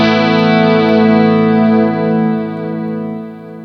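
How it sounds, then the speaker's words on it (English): Electric guitar played through a Free The Tone Flight Time delay pedal with a subtle chorus modulation, a sustained chord ringing steadily and fading slowly with a lush, shimmering tail, loud and alone. "It's just a subtle chorus sound."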